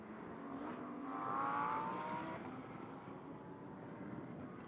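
An Audi R8 race car with a 5.2 litre V10 passes on a racing circuit, its engine note swelling to a peak and then fading into the distance as it moves away.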